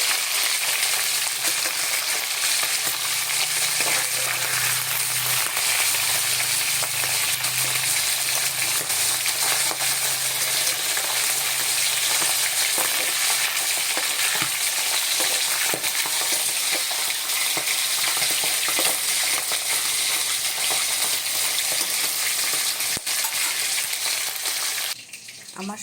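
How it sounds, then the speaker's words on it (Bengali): Bacha fish bubbling and boiling in a pan, a steady soft sizzle and simmer that runs continuously and close for nearly the whole stretch, then cuts off at the end. "মাছগুলো ফুটছে"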